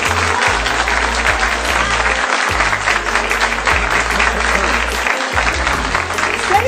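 Audience applause at a political address on Islamic radicalisation, a dense steady wash of clapping running throughout with a low hum and intermittent deep thuds underneath.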